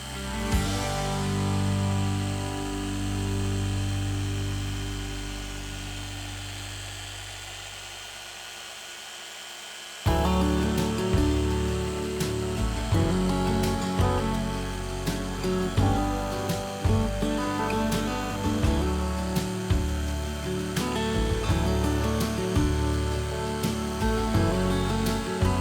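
A Rupes polisher with a 3-inch pad buffs paint on a Ranger 481V boat before ceramic coating, making a continuous close motor whine that shifts to a higher, busier tone partway through.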